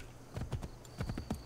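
Horse hooves clip-clop in the video game Assassin's Creed 3, two quick bursts of several crisp, close hoof strikes in a trotting rhythm, separated by a brief pause, with no talking.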